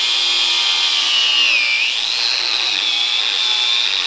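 A handheld angle grinder whines loudly and steadily in a garage, its high-pitched tone dipping briefly and recovering as it bears against the work, with no talk.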